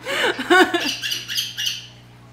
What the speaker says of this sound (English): It's mostly chirps and bird sounds